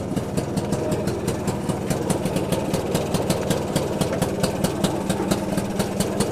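A BSA Bantam 175 motorcycle engine ticks over at idle, loud and close, with a steady rapid even putter throughout and no voices.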